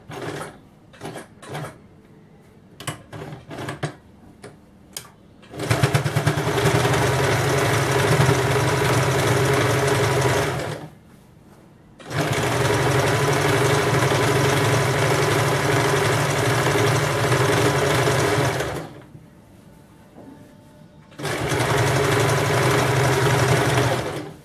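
A sewing machine stitches a kameez in three long steady runs, each several seconds of continuous close, loud motor whir and needle clatter, with short pauses and small handling noises between them and before the first run.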